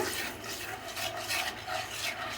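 Chili powder, salt and pepper powder being stirred in a pan, heard as a continuous rasping, scraping rub with gentle rhythmic swells, close and steady, with no talking.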